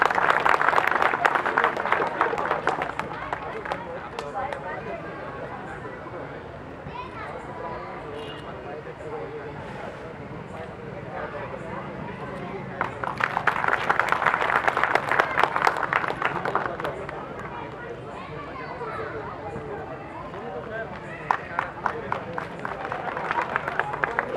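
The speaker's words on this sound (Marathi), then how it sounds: "जोरदार टाळ्या झाल्या पाहिजेत" An audience at a birth-anniversary event for Mata Ramai Bhimrao Ambedkar applauds a student being honoured, with a burst of clapping at the start, a longer louder round in the middle and more clapping at the end, amid crowd chatter and talk.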